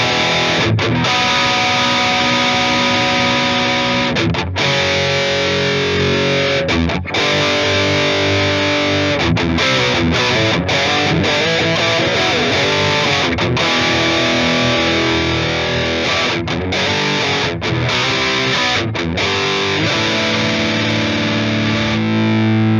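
Electric guitar played through a 7170 amp plugin with the amp cranked into power tube distortion, a full, saturated riff of chugging chords and held notes running steadily and loud with brief gaps.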